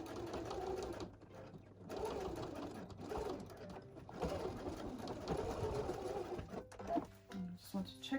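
A domestic sewing machine stitches slowly over a bulky zipper tab, its steady mechanical whirring rising and pausing under a person talking throughout.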